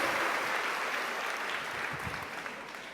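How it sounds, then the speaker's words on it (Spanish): A church congregation applauds Christ in a broad, even wash of clapping that fades gradually over a few seconds, heard at a moderate distance. "¿Cuánto le dan un aplauso a Cristo?"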